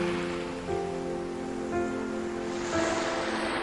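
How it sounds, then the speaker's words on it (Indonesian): Ocean waves used as a sound effect make a steady broadband wash that swells faintly, with soft tonal music playing over it throughout. "Suara laut"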